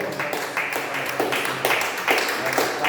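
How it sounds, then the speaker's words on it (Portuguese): A church congregation claps together in rhythmic bursts, fairly close and steady, with voices over the clapping. "Vamos aplaudir o Senhor"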